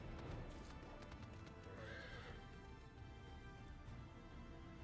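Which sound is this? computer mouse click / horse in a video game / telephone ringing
horse in a video game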